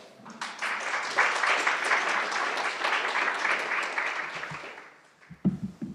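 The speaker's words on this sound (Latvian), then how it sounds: "Aplausi." An audience at a lecture on Soviet Latvian resorts applauds a speaker with a full, dense round that swells quickly, holds steady for several seconds, then fades out before a voice begins.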